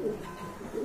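A pigeon coos softly and briefly at close range, one low throaty call among a collection of pigeons kept for sale.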